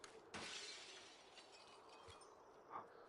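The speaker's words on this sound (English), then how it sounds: "And he hears the glass break." Glass shatters in a video game, a sharp crash followed by a faint scatter of tinkling fragments, quiet overall.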